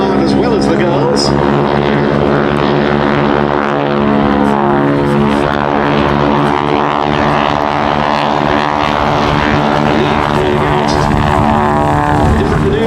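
Propeller aircraft flying a wing walking display at Duxford Air Festival, its engine droning loudly and steadily with a buzzing propeller tone throughout, with no break.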